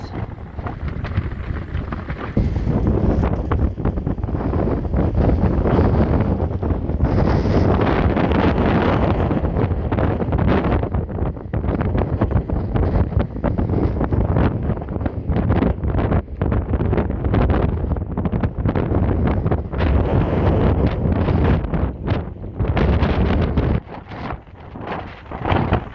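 Strong wind buffets the microphone in gusts at Blackpool Pleasure Beach, a loud, constant roar with rumbling peaks and no pauses.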